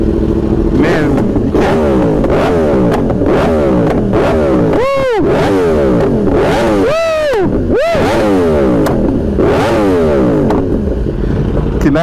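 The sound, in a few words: Yamaha R1 motorcycle engine revving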